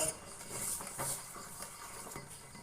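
A cucumber soap mixture with glycerin and rosemary essential oil is stirred in a bowl, giving soft, close clinks and scrapes of utensil against container with a light hiss, no talk.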